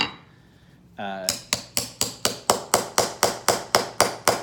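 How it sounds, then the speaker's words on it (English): Wooden pegs hammered into a shoe heel: about a dozen sharp, evenly spaced hammer strikes in quick rhythm, loud and close, after a brief rising squeak. "I'm gonna put a few more pegs back here."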